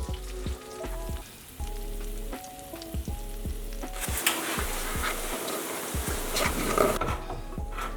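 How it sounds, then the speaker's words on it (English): Tomato paste sizzling in hot olive oil and stirred with a fork, a close, steady crackle that grows denser and louder partway through, with repeated light tapping and scraping of the fork against the pan. "I'm going to add about a tablespoon of my tomato paste, and then mix it around with a fork or a spatula."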